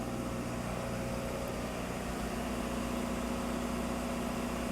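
Engines of a Westport 112 superyacht running inside the engine room, a loud steady mechanical drone with constant low hum and tonal whine, no speech.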